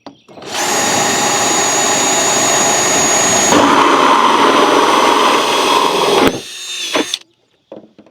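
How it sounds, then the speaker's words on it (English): A power drill whirs loudly and steadily for several seconds, then winds down and stops with a few faint clicks after. "Set the drill out of the way"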